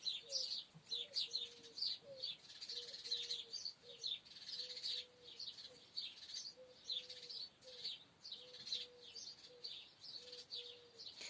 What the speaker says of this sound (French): il y en a les oiseaux qui s'excitent là